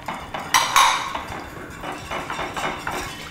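A whisk beats a marinade of whiskey and mustard in a bowl with quick repeated clinking and scraping strokes, close and moderately loud.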